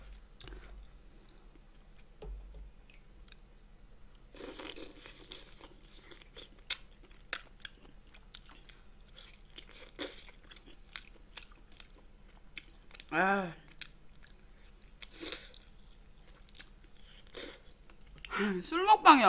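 Braised monkfish (agujjim) eaten up close, with soft wet chewing and scattered crunchy bites, quiet clicks and small mouth noises, and brief murmurs of speech.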